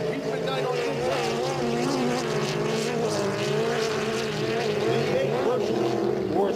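Race cars circling a track at Geneva, New York, a V8 dueling a highly modified 4-cylinder, their engines droning and wavering together in a sustained, undulating roar with pitch sweeps as they pass.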